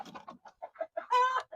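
A farm hen clucks close by in a quick series of short soft calls ending with a longer, louder squawk.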